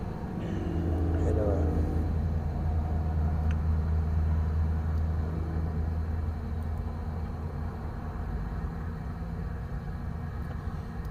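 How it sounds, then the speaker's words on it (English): Heavy trucks pass by with a steady, continuous low rumble throughout, loud and close, with faint engine noise over the top. "Trucks."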